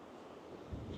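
Wind blows steadily at a breezy Moray Coast seaside in northeast Scotland, a continuous low rush with a faint wash of surf, no voices.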